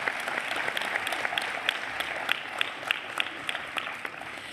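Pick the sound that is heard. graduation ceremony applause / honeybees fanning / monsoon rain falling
graduation ceremony applause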